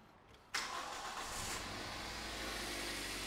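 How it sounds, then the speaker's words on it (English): A Toyota car engine with a misfire is started. After a short quiet moment, the engine catches abruptly and settles straight into a loud, steady idle heard up close. "What we're gonna do is start the car."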